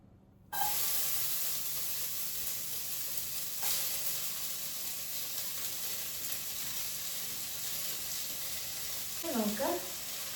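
Chopped ingredients for an easy healthy chicken curry hit hot oil and set off a steady, close sizzling hiss that carries on evenly, with a brief stir noise near the end.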